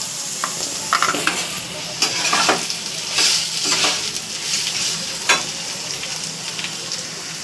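Chili powder, garam masala and salt get stirred in a hot frying pan, with a steady close sizzle of frying and repeated scraping strokes of the spoon against the pan.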